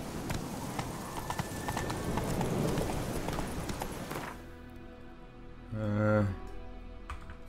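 Horse hooves clip-clop at a steady trot in The Witcher 3, close and clear over ambient game sound, then fade before a brief low tonal swell near the end.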